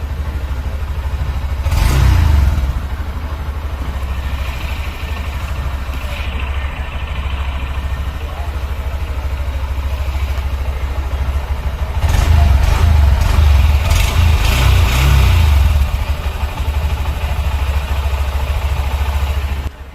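A motorbike engine starts and then settles into a steady, low idle, with a couple of louder rev bursts partway through. It is heard up close, with someone talking at times over the sound.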